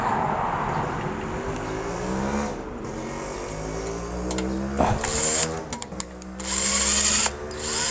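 An electric drill whirs up close while repairing an electric hot-water kettle that won't power on, its motor whine rising and falling in pitch across several long bursts with brief pauses.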